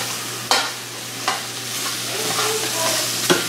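Butter sizzles in a hot pan while shrimp cook, a steady frying crackle punctuated by three sharp utensil clicks against the pan, close and moderately loud with no voices.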